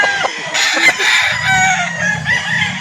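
Rooster at a chicken sale in Calauan crowing loudly and close, followed by steady clucking and fowl chatter with no voices.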